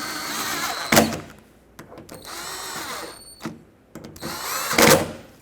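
A power tool drives bolts on the rear door latch actuator of a 2009-2014 Ford F-150, in several loud bursts of whirring with sharp thunks, separated by short quiet gaps.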